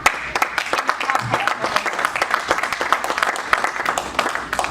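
A congregation applauds steadily to acclaim the Lord, with dense, continuous clapping from many hands at close range and no letup.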